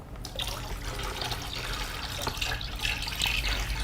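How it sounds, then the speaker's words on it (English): Water pours and splashes into a small tank for an analog water level sensor, a continuous bright trickle with scattered drips at moderate level, no voices over it. "Now I add the water to the tank."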